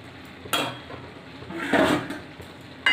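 A metal lid goes onto a cooking pot of chana dal and bottle gourd (lau ghanto): one sharp clank, then a longer clattering rattle and a final clink, close and moderately loud.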